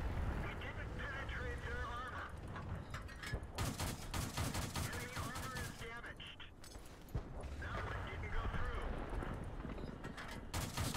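Tank cannon fire in World of Tanks on PC: booming shots and rumbling battle noise sit low in the mix under continuous talk, with a couple of distinct blasts.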